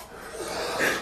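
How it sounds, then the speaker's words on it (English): A short cough bursts out at the end, following a breathy, laugh-like stretch of low sound. "I'm like in the middle of a laugh cough."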